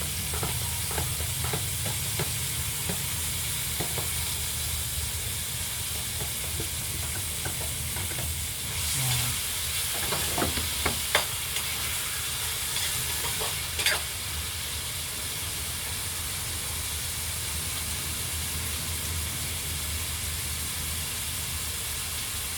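Vegetables stir-fry in a pan for pancit, a quiet continuous sizzle with scattered clicks and clatter of utensils, a few sharper knocks near the middle, no one speaking.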